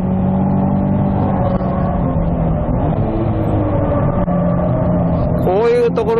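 A car engine held under throttle while accelerating out of a right-hand corner on a circuit, a loud continuous close-up drone with rising pitch near the end, someone talking over it throughout.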